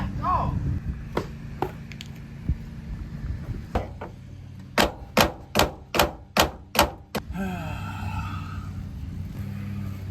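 Sharp metallic hammer strikes on a door pin of a 1988-98 Chevy truck, a few scattered hits then a rapid run of about seven evenly spaced blows, with a low engine rumble underneath.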